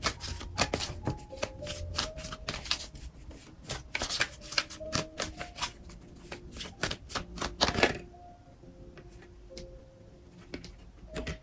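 A deck of Energy Oracle cards is shuffled by hand in a quick run of crisp riffling clicks and rubs, fairly close, pausing briefly before a softer final stretch.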